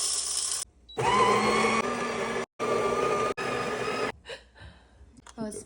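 A new home espresso machine, used for the first time, runs with a loud steady pump hum broken by short pauses, followed by softer hissing and sputtering; a person breathes and murmurs nearby.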